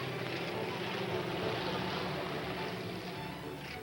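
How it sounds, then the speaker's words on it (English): A small plane comes in low over a driving range that doubles as a runway at the North Pole, its engine a steady broad drone with wind rushing across the open ground and no voices. "things were cut short when a plane tried to land"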